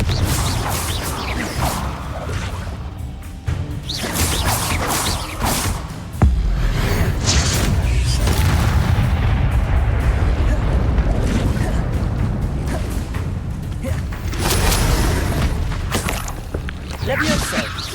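Confringo fire spell blasts in Hogwarts Legacy gameplay, loud booming explosions with whooshes and crashes that keep going over a dense, continuous game soundscape, with one heavy impact standing out partway through.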